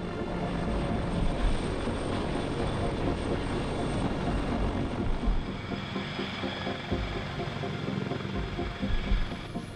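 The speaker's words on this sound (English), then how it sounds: "This heavy lift cargo helicopter is the largest helicopter ever built by the United States." A CH-53 King Stallion heavy-lift cargo helicopter drones steadily with a broad, dense rotor and engine roar, loud and continuous throughout, with no voices.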